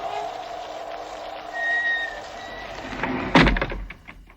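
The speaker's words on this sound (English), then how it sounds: "The door closed. I can't get it open." A heavy door thuds shut in a haunted mansion scene, a single loud close bang with a short rattling echo after eerie, whistling ambience.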